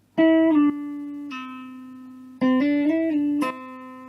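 Clean electric guitar slides down a pentatonic scale in a short phrase of notes that glide between pitches, then pauses and repeats a similar sliding run, close and clear.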